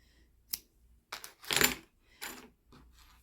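Scissors snip red yarn close by in a crochet session: a few separate, crisp clicks and short cutting sounds with quiet gaps between them.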